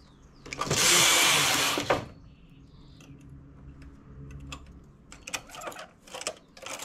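Knitting machine set at tension 6 and carrying 120 stitches, knitting a double band. A loud continuous rasping pass of the carriage lasts about a second and a half, then quieter clicks and rattles of the machine follow.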